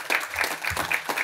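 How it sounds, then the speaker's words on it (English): Graduates at a university graduation ceremony applaud themselves, a close, fairly thin patter of clapping in quick irregular bursts. "Give yourself a round of applause"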